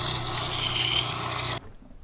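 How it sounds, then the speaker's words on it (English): A woodworking tool held in a jig rasps against the wheel of a slow-speed sharpener, a steady close grinding rub that stops abruptly after about a second and a half, leaving near silence. "run the jig along the bar to sharpen the tool"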